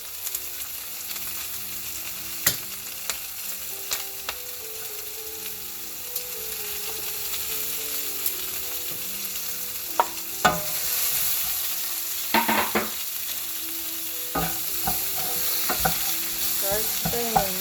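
Plenty of onions sizzle and fry in a pan for pork adobo, stirred now and then with scraping clicks over a steady, moderate hiss.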